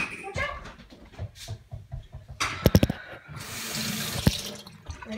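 Water from a tap runs onto small pieces in a sink, a steady splashing stream with a couple of sharp clatters midway, while people talk over it.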